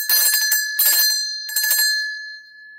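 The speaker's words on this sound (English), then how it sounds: "Whenever you hear a bell on the tour," A tour guide's hand bell rings on a historic walking tour, three close clusters of bright metallic strikes with a sustained ringing tone that slowly fades, loud and alone.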